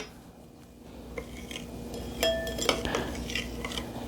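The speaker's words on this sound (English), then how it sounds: "And now I'm going to go ahead and stir it." A spoon stirring a yeast mixture in a bowl, with light clinks and scraping taps against the sides that grow busier midway, close and fairly quiet with no talk.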